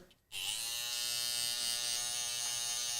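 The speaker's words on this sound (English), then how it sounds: "Now I'm gonna blend down with my trimmer." A hair trimmer buzzes steadily and loudly while blending a low taper fade, a constant close electric hum holding unbroken for about three seconds after a brief quiet start.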